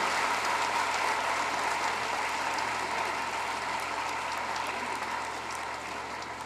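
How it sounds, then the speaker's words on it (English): A hall of people at a Lahore College for Women University convocation applauds degree, medal and award recipients, a dense, sustained wash of clapping that holds steady and fades slightly near the end. "please join us to give a round of applause to the recipients of degrees, medal, awards, shields, and co-curricular Roll of Honor"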